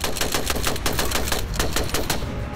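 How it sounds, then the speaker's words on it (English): Rapid bursts of machine-gun fire mixed with sharper rifle shots, loud and continuous, rattling in quick succession with no talking. "They started firing too, with machine guns and rifles."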